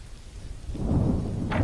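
Steady rain with a low thunder rumble swelling in a video game, Assassin's Creed 3, the downpour growing louder and fuller partway through with no voices.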